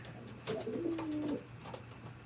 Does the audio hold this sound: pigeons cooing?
yes